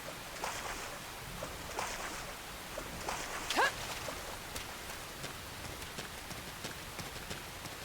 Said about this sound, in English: Is it supposed to be raining?